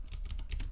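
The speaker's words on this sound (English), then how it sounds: "Give you that typing ASMR" Brisk typing on a computer keyboard, a short burst of about six crisp keystrokes in quick uneven rhythm, close and clear with no talking.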